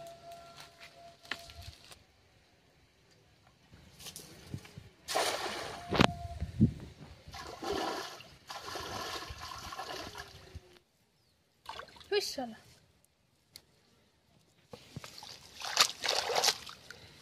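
A fishing net is cast into a large pond in front of a bathing ghat in the Sundarbans, bringing bursts of splashing, sloshing and trickling water with quiet gaps between them.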